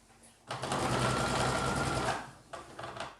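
Sewing machine stitching a 1.5 cm seam where a collar meets a Hawaiian-style shirt, running steadily and loud for about one and a half seconds, pausing, then a brief second burst.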